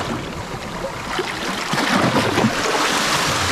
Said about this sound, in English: Wait for the waves.